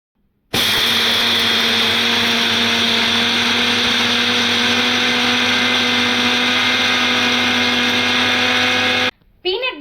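A mixer grinder with a jar of roasted, skinned peanuts whirs loudly at a steady high speed, grinding them into powder for peanut butter. It starts abruptly, runs for about nine seconds and then stops.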